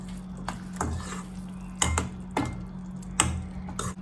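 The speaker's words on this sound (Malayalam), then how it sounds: "നമുക്ക് പതുക്കെ ഒന്ന് മിക്സ് ചെയ്തെടുക്കാം" Fresh cream stirred into paneer masala curry in a pan: a spoon knocks and scrapes against the pan in several sharp clinks spaced about half a second apart over a low steady hum, close and fairly quiet.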